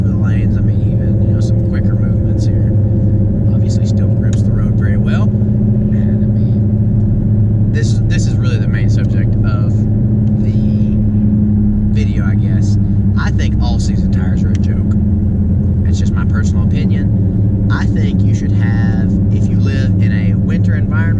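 A car on summer tires rolls through heavy snow, its engine and road rumble droning loudly and steadily while someone talks over it throughout.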